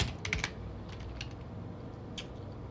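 A short burst of computer keyboard typing as the ipconfig /renew command is entered: a quick cluster of key clicks, then a few scattered taps, close and quiet, with no voices.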